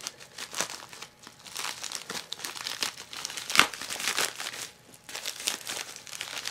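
Bubble wrap and plastic packaging crinkle and crumple close up while a package is unwrapped, in dense bursts of rustling and tearing with a sharper crackle midway, no one talking.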